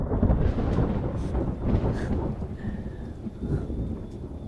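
Low rolling thunder rumbles over a dense, steady wash of rain, loud and continuous, with a few heavier booms in the first half and no speech.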